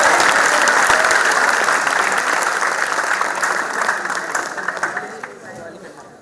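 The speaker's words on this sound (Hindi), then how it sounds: "मैं चाहता हूं सारा सदन जोरदार तालियां बजाए" An audience at a Hindi poetry recital in a hall breaks into loud, steady applause that gradually tapers off over several seconds.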